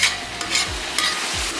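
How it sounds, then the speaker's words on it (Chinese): Pork being stir-fried with seasoning in a hot wok, a steady sizzle broken by a few scraping sweeps of the spatula, close and fairly loud with no voices. "咱们把这个继续给它煸炒一下"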